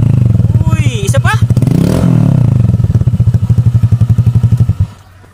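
A Honda Click version 1 scooter fitted with a full-system muffler and no silencer idles loud and close with a rapid, pulsing exhaust beat, swells into a rev, then settles back before cutting off.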